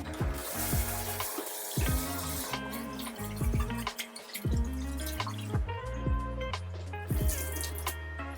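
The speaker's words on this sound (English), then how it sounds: "I'm just gonna wash the rice in the sink and then we'll cook it." Rice being washed by hand in a kitchen sink under running water, with close, bright splashes and a steady trickle from the tap, broken by irregular drips and gentle swishing of grains, quiet and alone.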